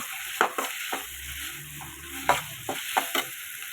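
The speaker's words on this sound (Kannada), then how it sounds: "ಕೊತ್ತಂಬರಿ ಸ್ವಲ್ಪ ಬಾಡಿಸ್ಕೊಂಡ್ರೆ ಸಾಕು" Coriander leaves sautéing in a pan while making tomato bath, heard as a soft, steady sizzle with intermittent stirring scrapes and clicks, close by and with no talking.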